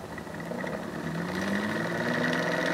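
An EGG energy expansion generator with a rotor fitted starts up and runs, giving a steady mechanical hum and whirr that rises slightly in pitch as it speeds up, moderately loud and continuous.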